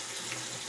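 Tap water runs steadily into a sink as a face is wetted, a close, even hiss with no pauses.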